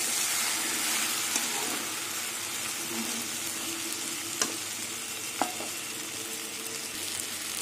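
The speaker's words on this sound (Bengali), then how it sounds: "একদম ভাজা ভাজা হবে বাঁধাকপিটা।" Shredded cabbage sizzles steadily in a hot pan while being stirred for a Bengali cabbage and prawn ghonto, a soft continuous hiss broken by a few sharp clicks of the spoon against the pan.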